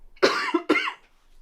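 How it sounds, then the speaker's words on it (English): A person coughs twice in quick succession close to the microphone, loud and harsh, then falls quiet. "Still getting past my cough."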